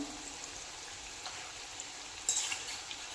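Shankarpali dough pieces fry in hot oil with a soft, steady sizzle and faint crackle, growing briefly brighter near the end, no voices.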